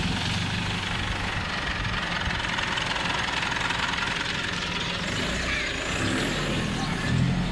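A 2019 Mitsubishi Triton's engine runs at a steady idle, a close, continuous low rumble with mild knocking texture and no talk over it.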